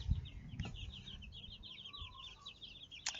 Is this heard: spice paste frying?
no